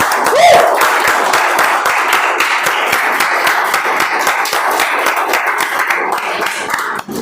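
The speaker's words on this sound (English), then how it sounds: "Can we look at them and clap" Standing guests at a speech contest meeting give sustained, dense applause that fills the room, loud and continuous for several seconds with a faint voice rising briefly at the start.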